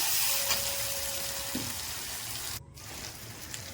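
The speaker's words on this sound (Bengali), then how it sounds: "দেবো পরিমাণ মতো হলুদ গুঁড়ো পরিমাণ মতো লঙ্কার গুঁড়ো আর অল্প পরিমাণে নুন দিয়ে মশলাটা ভালো করে কষে নেব" Biryani masala with turmeric, chili powder and salt frying in a pan, a steady close sizzle with a few light stirring scrapes, heard alone.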